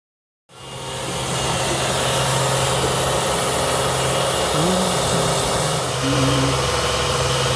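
A trimmer motor spins up and runs steadily while cutting grooves into a Solovair replacement sole on a Dr Martens Felicity boot, a close, even whine with slight shifts in pitch as it bites into the rubber.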